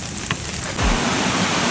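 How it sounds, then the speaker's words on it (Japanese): Rain pours in a dense, loud, continuous hiss on the steep Kuragari Pass of Japan's National Route 308, with a low thump partway through and no voices over the steady downpour. "雨が降ってきて何も見えません"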